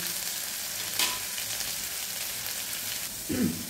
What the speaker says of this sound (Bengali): আলুগুলো আমার ভালো করে ভাজা হয়ে গেছে